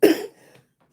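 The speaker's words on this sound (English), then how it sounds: "I just started coughing" One short, throaty cough bursts out close to the microphone, trailing off into quiet before a brief second sound starts at the very end.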